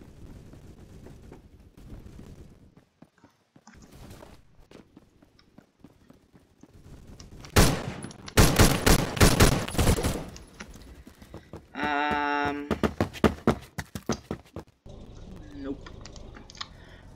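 Loud bursts of rapid automatic gunfire from a weapon in the video game Phantom Forces cluster in the middle, surrounded by quieter clicking and muffled game noise.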